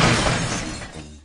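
A car's rear windows shatter in one loud, close crash of breaking glass, a dense burst of crackling shards that quickly decays over about a second.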